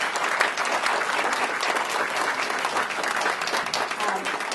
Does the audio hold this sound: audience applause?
yes